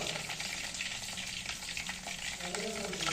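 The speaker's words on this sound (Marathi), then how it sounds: "मोहरी तेलात घातलं आणि तडका द्यायला लागले" Mustard seeds crackling in hot oil for a tadka in a home kitchen; a dense, close, continuous sizzle and spatter fills the short stretch with no talking.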